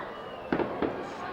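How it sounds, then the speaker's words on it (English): Fireworks pop twice behind the right field fence at Bethpage Ballpark during a Somerset Patriots at Long Island Ducks minor league baseball game, two distant muffled bursts over steady crowd murmur and broadcast commentary. "As some fireworks actually go off behind the right field fence here at Bethpage Ballpark."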